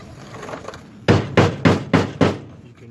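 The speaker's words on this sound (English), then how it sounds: "Where the chisel stops, you're hitting a spot weld." A chisel is hammered into a spot weld on a 1955 Cadillac Coupe Deville's inner rocker panel: five loud, evenly spaced metallic blows, close by, following a quieter stretch of faint workshop noise.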